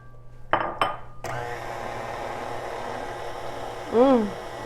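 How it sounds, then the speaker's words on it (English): A blender whirs at high speed while blending confectioners sugar for vegan shortbread, starting after a few clunks and running as a steady loud motor drone with a brief surge near the end. "You're going to add this to the blender, and then blend it for about 2 minutes."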